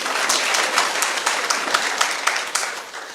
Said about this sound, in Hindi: सर के लिए तालियां बजा दो यार।